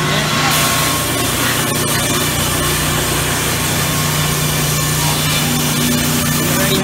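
A sawmill machine cuts through teak wood at a Brazilian milling operation, giving a loud, continuous grinding and rasping roar with a steady mechanical hum underneath, unbroken from start to finish.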